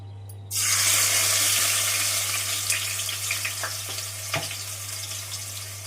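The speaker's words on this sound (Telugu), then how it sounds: "ఆయిల్ వేడెక్కేసింది ఇప్పుడు కొంచెం ఉల్లిపాయలు" Onions hitting hot oil in a pan start a loud, steady sizzle that sets in abruptly and holds throughout, with a few light clinks of a utensil over a low hum.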